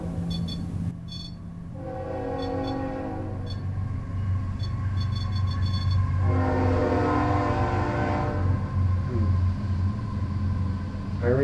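A train rumbles steadily past while its horn sounds in several long blasts, loud and near, with low rolling noise throughout.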